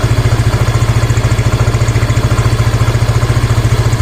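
A Yamaha Mio i 125 scooter engine idles close by, loud and steady with a fast, even putter throughout.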